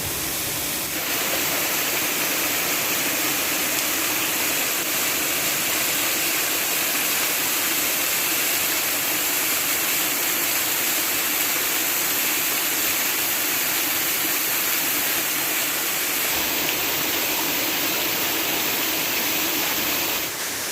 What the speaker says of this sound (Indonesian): ini Sarasa air terjun namanya, di Jorong Sungai Puar, Kenagarian Sungai Puar, Kecamatan Palembayan, Kabupaten Agam, Sumatera Barat